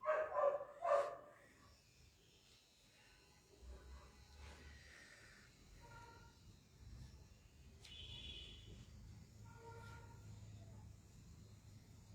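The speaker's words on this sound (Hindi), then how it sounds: "कुत्ता, हाँ हाँ वो उसका साउंड, इधर पास में कोई भौंकता है।" Dog barking somewhere nearby, a few sharp yips bunched at the very start, then only faint scattered sounds and low background hum afterward.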